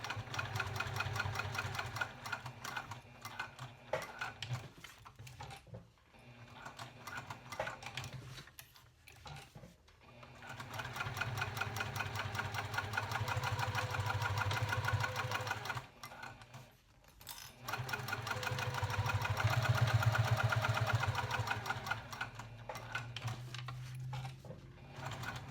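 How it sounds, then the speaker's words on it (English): A sewing machine backstitches along a snap tab on a tall wallet, a steady close whir of rapid stitching with two short pauses where it stops and reverses, and no talking. "I also backstitch where my snap tab meets"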